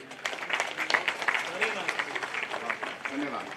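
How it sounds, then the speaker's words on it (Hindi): An audience at a gathering of former soldiers in Dhandera, Roorkee claps in a short burst of scattered applause, with someone speaking over it. "ताली बजाओ भाई एक बार।"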